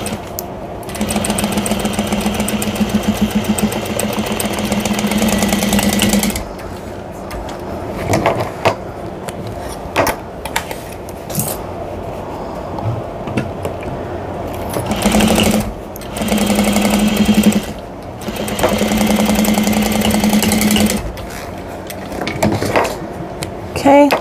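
A domestic sewing machine stitches the boxed corners of a tote bag lining in several bursts of rapid, buzzing needle strokes. Short pauses fall between the runs, with handling noises and fabric shuffling in the gaps.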